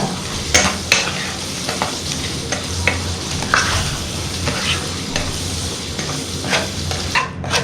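Petai beans, shrimp and shrimp paste with kaffir lime leaves stir-fried in a pan, giving a steady close sizzle broken by repeated scraping and clattering strokes of a spatula.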